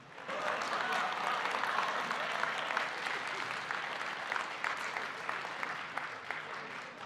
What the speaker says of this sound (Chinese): 有极少数人没鼓掌啊